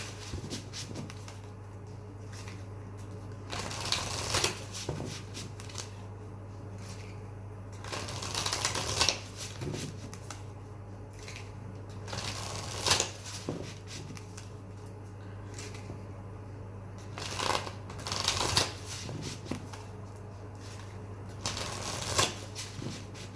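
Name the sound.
shuffling Druid Craft tarot cards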